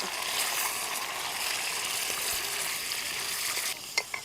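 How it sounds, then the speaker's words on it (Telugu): Marinated mutton fries in plenty of oil, a steady close sizzle and hiss, then a few sharp clinks and scrapes of stirring at the end. "ముందుగా మ్యారినేట్ చేసి పెట్టుకున్న మటన్ ఉంది కదా ఇది వేసుకోవాలి ఇప్పుడు వేసి కలబెట్టుకుందాం"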